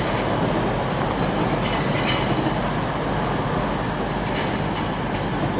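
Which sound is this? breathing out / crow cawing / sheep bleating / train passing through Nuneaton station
train passing through Nuneaton station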